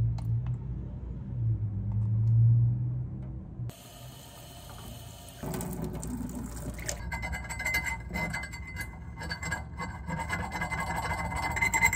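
Residue being scraped off glass by hand, a soft intermittent rubbing and rasping close up, with a faint low hum early on and scratchy strokes growing busier later.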